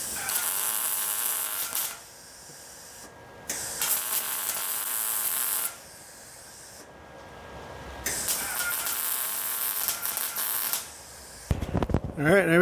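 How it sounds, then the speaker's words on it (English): Welding a brace onto a 1964 Thunderbird produces three long, steady bursts of harsh buzzing hiss and crackle separated by quieter gaps, with a few short clunks at the end. "Now I'm going to weld on a piece on top of that just to give it some strength"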